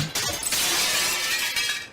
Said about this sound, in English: The window broke and glass fell down.